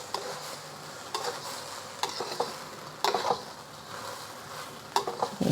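Sticky rice with dried shrimp and scallop is stir-fried in oil. Close, repeated scraping strokes of the spatula sound roughly once a second over a low, continuous sizzle, with no voices.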